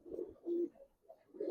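Giribaz pigeons cooing softly, with a few low, throaty coos in quick succession. The sound is quiet and close, and no one is talking.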